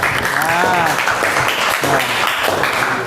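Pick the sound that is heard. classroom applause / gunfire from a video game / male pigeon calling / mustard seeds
classroom applause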